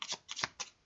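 Tarot cards shuffled by hand, three quick riffling bursts close up, crisp and papery, with no voices.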